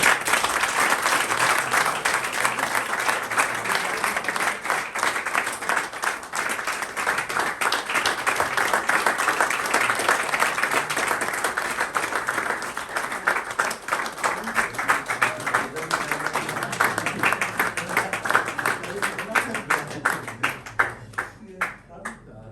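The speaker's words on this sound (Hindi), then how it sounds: "जोरदार तालियां" Loud, sustained applause from a family gathering at a recovery birthday celebration with cake, dense clapping running for about twenty seconds and thinning into scattered individual claps at the end, with some voices mixed in.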